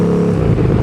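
A KTM 1290 Super Duke R motorcycle with a loud, nearly straight-through exhaust gives a brief, steady, close, heavy engine rumble.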